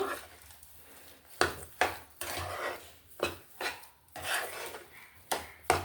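Metal spoon stirring sugar into ravva kesari, a semolina sweet with pineapple, in a pan over low heat, giving repeated scraping clinks and knocks at an irregular rhythm, close and moderately loud, with no talk.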